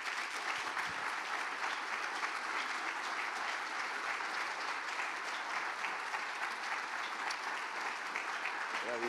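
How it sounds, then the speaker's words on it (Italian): Theatre audience gives an actress sustained applause, a dense, even roar of many hands clapping at moderate volume that holds steady throughout with no pause. "facciamo un grandissimo applauso a questa"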